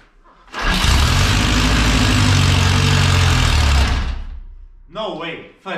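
A Henderson Model A hotrod engine catches on the first kick-start and idles loudly and close for about three seconds, a dense throbbing rumble that then dies away, followed by a brief voice.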